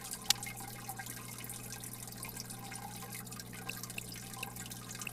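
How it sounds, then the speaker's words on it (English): A faint, quiet water-change sequence in the Biotope Aquarium Simulator video game, with soft trickling and dripping water, one sharp drip near the start, over a low steady hum. "We're going to have to do a water change."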